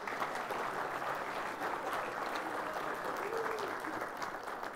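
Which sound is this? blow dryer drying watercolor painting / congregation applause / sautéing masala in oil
congregation applause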